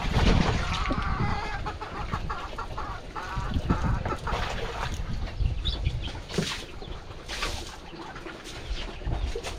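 Chickens cluck and chatter continuously at feeding time on a farm, a dense, busy chorus of overlapping calls close by with steady background noise throughout.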